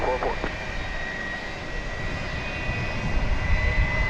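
A jet airliner rolls for takeoff on runway 18 left at DFW Airport, a steady broad engine roar with a high whine, heard from a distance and building slightly, with brief radio chatter near the start.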